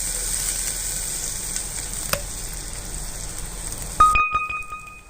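Shallots and green chilies sauté in a pan with a steady, loud broadband sizzle, a brief clink near the middle, and a sharp metallic clatter of a spoon against the pan toward the end.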